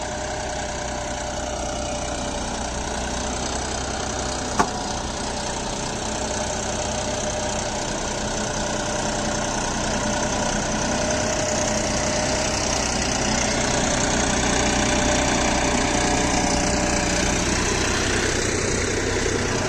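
A John Deere 5405 CRDI tractor engine runs steadily at a low idle-like throb, close and continuous with one brief click partway through, no talk.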